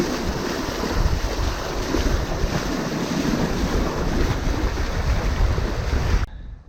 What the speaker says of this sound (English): good to finally be sailing an open stretch of water with some decent wind